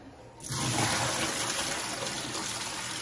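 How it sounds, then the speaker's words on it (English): Water from a pot of boiled potatoes pours out past a plate held over the pot, a steady close gushing splash that starts suddenly and runs for a few seconds without talk. "I'm gonna use this plate to drain it"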